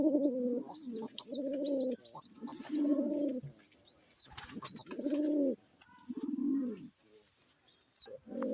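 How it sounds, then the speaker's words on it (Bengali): Red Capuchine pigeons in a pigeon farm loft cooing in repeated low, throaty bursts, close and clear, with several calls in a row and short pauses between them. "এখানে আমার এক জোড়া রেড ক্যাপুচিনোর পেয়ার রয়েছে।"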